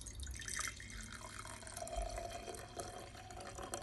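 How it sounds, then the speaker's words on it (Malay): Water pours from a jar into a beaker during a primary-school science demonstration: a quiet, trickling, dripping flow heard close up for a few seconds. "air daripada balang A pindahkan ke bikar C"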